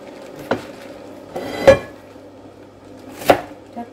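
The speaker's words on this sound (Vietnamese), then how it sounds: "cô cắt rau" A knife chops Malabar spinach on a board for soup, with three separate sharp knocks spaced unevenly over a quiet background.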